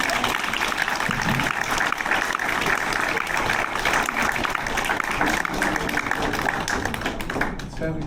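Loud, dense applause from a standing audience honouring a medical staff award recipient, sustained evenly for several seconds with sharp individual claps, a voice faintly audible underneath, tapering slightly at the end.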